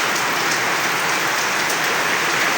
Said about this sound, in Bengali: বৃষ্টি হচ্ছে আর হচ্ছে